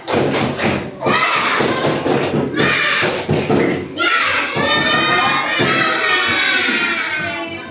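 A class of schoolchildren does a rhythmic spirit clap and cheer, with loud, fast, patterned clapping and thumps under excited shouting voices that rise into a cheer near the end.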